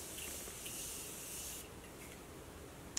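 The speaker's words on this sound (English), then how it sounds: "So I'm going to use my Morphe spray and put it on." A Morphe setting spray mists onto a face in one steady, close hiss lasting a few seconds, soft and even, ending in a small click.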